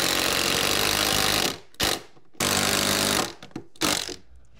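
A power drill drives screws into 2x4 studs during repair of a water-damaged, rotted wall and subfloor, with two long, loud, close whirring bursts and a few short trigger pulses between them.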